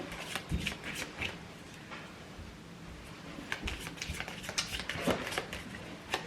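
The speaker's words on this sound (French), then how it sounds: "on va prendre une petite carte magique pour conclure ce tirage" Tarot cards being shuffled and drawn, a steady soft riffling of card edges with several sharper flicks and snaps as cards are pulled, close and moderately quiet with no voices.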